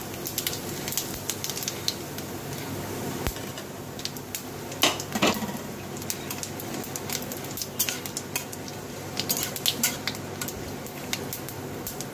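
Bay leaf, dried chili and whole cumin seeds fry in a pan with a steady low sizzle, punctuated by occasional sharp clinks of a utensil against the cookware.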